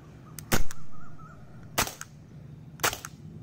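Target sporting pistol firing three sharp, loud shots at uneven intervals, each a crisp crack with a short decaying tail, heard alone over quiet outdoor background.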